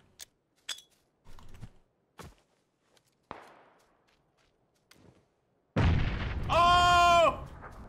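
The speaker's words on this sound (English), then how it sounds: "PUBG nade for the win" A grenade blast in the battle-royale game PUBG bursts out loud and broad near the end, after scattered soft clicks and thumps, then rings with a harsh tonal whine before cutting off.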